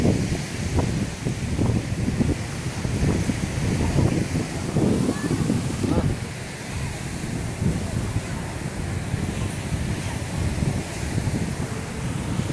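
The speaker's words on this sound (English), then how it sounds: "It's kind of windy out here." Wind blowing across a crowded beach at Gulf Shores, Alabama, buffeting the microphone with a steady, loud low rumble and gusts, with murmuring voices and surf-like wash underneath.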